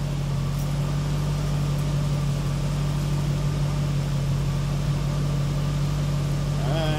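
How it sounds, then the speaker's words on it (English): A car engine with Bosch L-Jetronic fuel injection idles steadily during air-flow-meter adjustment, a constant low hum running throughout with no talk over it. "Or hear the engine move."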